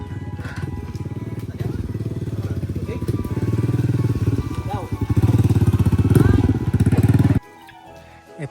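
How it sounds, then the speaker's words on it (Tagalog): A motorcycle engine drones loudly and close for several seconds, swelling as it passes, then cuts away to quiet background with faint sounds. "Yan, may motor."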